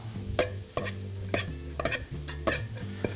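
A salad dressed with lemon juice, olive oil, salt and pepper is tossed in a bowl, giving a handful of close, crisp clinks and scrapes of utensils against the dish in a loose rhythm under a low, steady hum.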